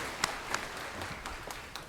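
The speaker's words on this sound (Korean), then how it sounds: "영광의 박수를 하나님께 드리겠습니다." A Korean church congregation applauds during Sunday worship, a faint wash of many hands with a few louder claps popping out at irregular moments.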